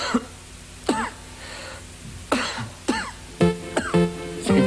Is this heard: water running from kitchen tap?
no